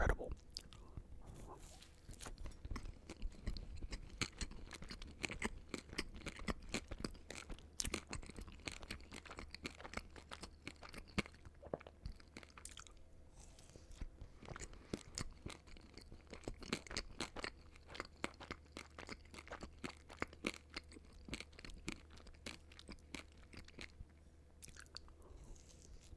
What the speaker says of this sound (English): I hope the little crunchy bits of the dots in my mouth is not like too jarring.